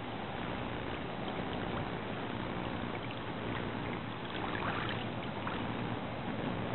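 A kayak glides through water with a soft, steady wash and light rippling close by, a quiet continuous hiss with no paddle strokes standing out.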